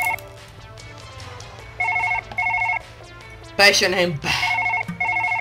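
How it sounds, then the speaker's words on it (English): A telephone rings in the surgery video game Surgeon Simulator, repeating in short electronic ring bursts with pauses between them, while someone talks over it and other game noises sound in the background. "How do you pick up the phone?"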